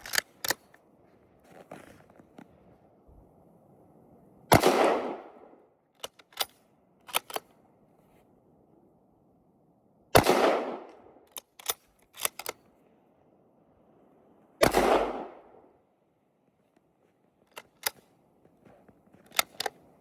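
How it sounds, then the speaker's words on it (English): Mosin Nagant rifle shots ring out three times at roughly five-second intervals, each a sharp loud crack with a short decaying echo. Clicks and clacks of the bolt being worked come between the shots. "Anyway, I'll take a few shots"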